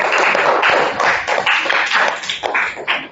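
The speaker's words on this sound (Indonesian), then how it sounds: "tepuk tangan untuk kelompok 1." A small group of students in a classroom clapping for a student group close by, uneven and sparse, with individual claps audible in bursts rather than a steady roar.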